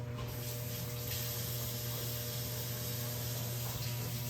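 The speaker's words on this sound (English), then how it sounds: "I'm gonna have to wash my hands" Hands being washed under a running kitchen tap, a steady close spray of water that continues evenly over a low hum.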